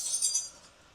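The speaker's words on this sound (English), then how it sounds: "We have just like this glass crush" A short glass-crush effect used as a drum impact in a hip-hop beat: a brief, bright, crackling shimmer of breaking glass that fades quickly, faint and alone.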